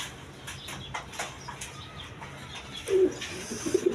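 A pair of Denis pigeons coo softly nearby, with a few low throaty calls near the end over faint background rustle and brief flutters.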